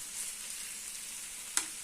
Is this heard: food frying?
yes